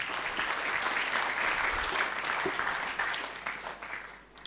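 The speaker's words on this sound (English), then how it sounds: "So let us clap again for our presenters." Conference audience at a summit applauds its presenters with a sustained, even wash of clapping from a seated crowd that fades slightly toward the end.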